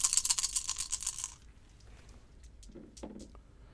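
Four ability dice for a Star Wars Edge of the Empire tabletop RPG rolled together, a dense burst of rattling clicks for about a second and a half, then a few faint scattered taps as they settle.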